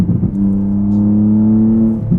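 A 2024 BMW G87 M2 drag build with a wide open exhaust holds a loud, close, steady droning rev for about two seconds, rising at the start and dropping away at the end.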